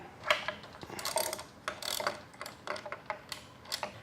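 A ratchet wrench clicks steadily while loosening a 5/16 inch (8 mm) bolt on the shift linkage of a Ford E4OD or 4R100 transmission, giving close, repeated metallic ratcheting strokes with short pauses.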